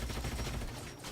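Rapid gunfire crackles in a turn-based battle in the video game Age of Wonders: Planetfall, a brief, dense burst of repeated shots heard at moderate volume.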